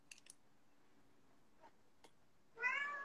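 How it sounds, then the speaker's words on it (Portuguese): A domestic cat meows once in the background near the end, brief but clear against a quiet indoor room, after a few faint clicks and taps. "Vocês estão ouvindo um gato de fundo, que as minhas gatas vieram aqui agora"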